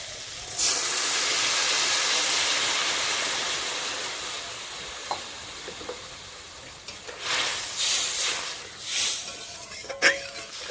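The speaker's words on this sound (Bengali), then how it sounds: "এখন দিয়ে দেবো পরিমাণ মতো জল।" Water hits a hot pan for a rohu fish and prawn curry with mustard paste, bursting into a loud, close steam hiss that slowly fades, followed by a few sharper bubbling surges.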